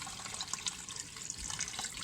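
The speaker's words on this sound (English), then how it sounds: "We're going to pour our water out carefully and slowly" Rinse water poured carefully and slowly out of a pot of rice, a steady close splashing trickle with a few small sloshes over about two seconds.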